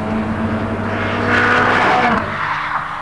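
Ferrari 360 Modena with a fly-by-wire 3.6 litre V8 and paddle-shift gearbox drives along, its engine note loud and steady, swelling briefly mid-clip, with no talking.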